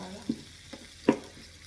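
Onions, peppers, mushrooms and minced meat frying in a pan as mini pizza toppings, heard as a faint sizzle broken by a few short clattering knocks of utensil or pan.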